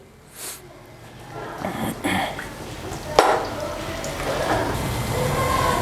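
Half a kilo of boneless chicken pieces goes into a hot pan for Chicken Manchurian. A few clattering knocks and scrapes land over a low sizzle that grows steadily louder toward the end.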